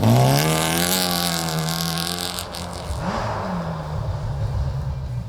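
A Dazzler rally car races hard along a rally stage, its engine loud and near, revving up through rising pitch, dropping as it shifts, then snarling again with a rough rumble and no talking.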